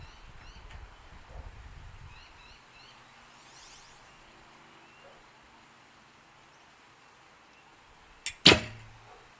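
An archery bow is drawn and shot with a carbon clicker, quiet outdoor ambience with faint birds leading up to a sharp click and the loud snap of the release near the end.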